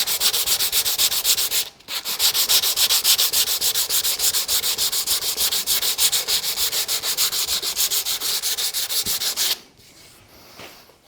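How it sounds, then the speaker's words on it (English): Wood being hand-sanded with 180 grit sandpaper while shaping an oval box, a steady rhythmic scratching rasp of rapid back-and-forth strokes, close and loud, pausing briefly near the start and stopping near the end. "The sandpaper will take care of the rest."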